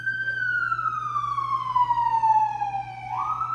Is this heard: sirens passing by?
yes